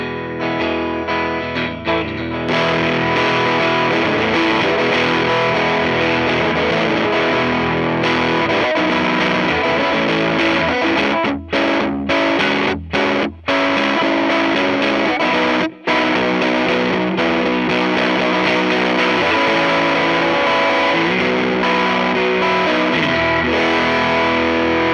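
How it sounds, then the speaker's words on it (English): Electric guitar through a stock overdrive distortion pedal, played loud and continuous with thick sustained chords and a few brief stops between phrases. "It's a great, just standard stock distortion."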